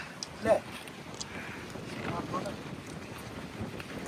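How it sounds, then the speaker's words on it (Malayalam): Wind rushes across a hilltop viewpoint in Attappadi, a steady buffeting roar against the microphone with a brief gust early on. "കാറ്റാണ് ഇവിടുത്തെ മെയിൻ പ്രത്യേകത"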